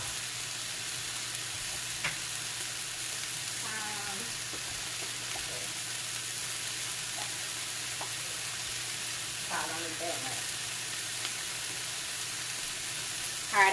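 Onions and peppers fry for gravy in a pan, a steady loud sizzle that continues throughout, with a few faint clinks and a brief voice underneath.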